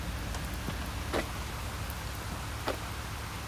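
Rain falls steadily on a freshly paved, sealed road, a continuous soft hiss with a few sharper drips and ticks, heard alone and moderately faint.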